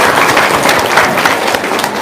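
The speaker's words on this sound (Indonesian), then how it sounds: "Tepuk tangan dong." Audience applause at a talk show, a dense, steady wash of clapping, loud and close, with faint voices mixed in.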